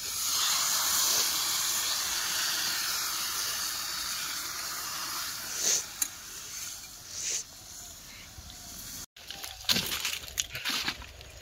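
Water poured into a hot pan of curry with turmeric: loud steady hiss and sizzle that slowly fades, followed by a few clanks and stirring noises near the end.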